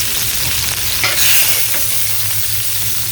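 Smash burgers sizzle loudly on a Blackstone griddle in a steady hiss, and a short burst of spatula scraping or pressing sounds partway through. Nobody talks.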